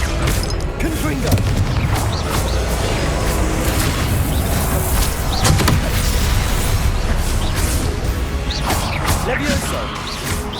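Confringo spell explosions in the video game Hogwarts Legacy, with booming blasts and crashing impacts over a dense, loud, continuous battle din, and a voice casting spells throughout.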